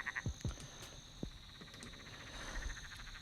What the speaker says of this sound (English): So this is what it sounds like from these frogs.